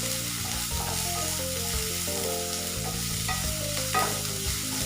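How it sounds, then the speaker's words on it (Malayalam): Onion sautéing with salt in a pan for a quick egg and beaten-rice breakfast, giving a continuous near sizzle with a stirring spoon scraping and knocking along under it, and no one speaking. "ഇതിലേക്ക് നമുക്ക് കുറച്ച് ഉപ്പും കൂടി ചേർത്ത് ഒന്ന് വഴറ്റിയെടുക്കാം."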